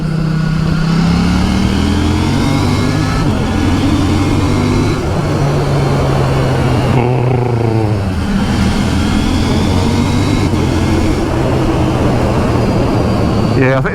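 A KTM 890 Duke GP motorcycle engine revs up and down in rising and falling sweeps, loud and close, with brief quickshifter blips between gears while someone talks over it.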